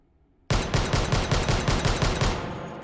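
A long-slide Desert Eagle .50 AE pistol fitted with a stock and muzzle brake fires a fast string of about a dozen loud, evenly spaced shots in the game H3VR, ending in a fading echo.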